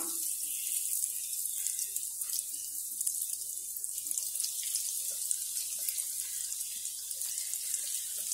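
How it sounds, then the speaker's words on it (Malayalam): Coated egg pieces fry in hot oil for an egg snack, giving a steady, even hiss and sizzle that runs without a break for the whole stretch, with faint crackles scattered through it and no voices. "ഇനി നമുക്കിത് എണ്ണയിലേക്കിട്ട് ഫ്രൈ ചെയ്തെടുക്കാം"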